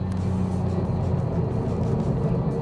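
Interior engine rumble of a 2015 Subaru WRX STI at speed on a racetrack, a dense steady drone with road roar, loud and continuous with no voices.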